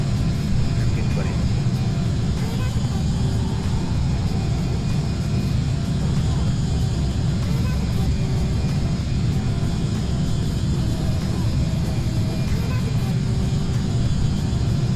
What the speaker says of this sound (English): Yeah, Lunar, it's a solid airplane. Like I said, it's the sounds are good